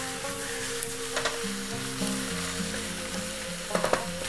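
Marinated chicken with slit green chillies stirred and frying in a pan for spicy Andhra chicken fry, a close, steady sizzle with a few sharp spoon scrapes near the end, no talking.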